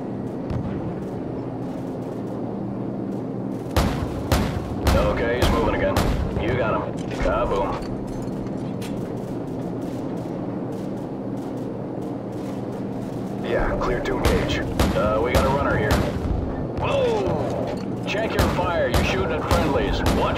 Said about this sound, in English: We're taking fire from all sides